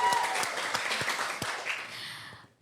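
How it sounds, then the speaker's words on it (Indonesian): Podcast studio audience claps at a village tourism talk show, a dense burst of applause with sharp individual claps scattered through it, fading out at the end. "Ayo teman-teman kita kasih tepuk tangan dulu dong."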